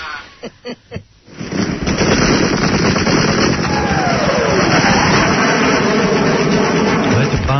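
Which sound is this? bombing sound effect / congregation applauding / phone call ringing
bombing sound effect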